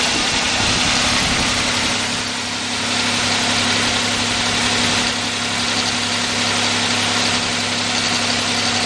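A Nissan Maxima engine idles steadily after a fuel filter change, a loud, continuous close-up hum with a low drone and light mechanical vibration that dips briefly near the start, no voices present.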